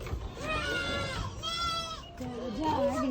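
Goats bleat in a rural yard in San Luis, Batangas during Holy Week, several wavering calls close by, mixed with people talking.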